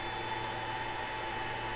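A steady, even mechanical hum with a faint high whine runs throughout, from a Longer Ray 5 laser engraver's motor and fan whirring in the background.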